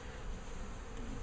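A dense, steady hum of many honey bees buzzing close by at an open hive, slightly agitated, continuous and fairly quiet with no voices.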